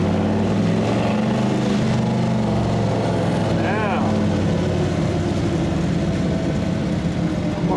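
The Blue Diamond's engine runs steadily as it warms up after the choke is adjusted, a loud continuous low rumble that holds level throughout, with someone talking over it.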